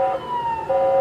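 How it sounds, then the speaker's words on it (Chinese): Police car siren wailing while chasing a motorcycle carrying two riders, a loud close continuous tone sliding in pitch, heard alone. "警车鸣笛，紧跟前方一台双载机车"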